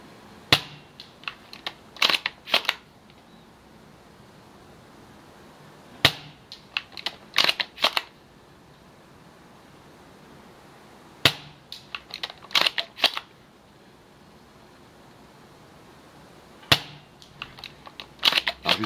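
An airsoft rifle fitted with an Amoeba Striker hop-up and barrel spacers fires from a standing position, giving sharp, close clicking shots in short bursts separated by pauses, repeated four times.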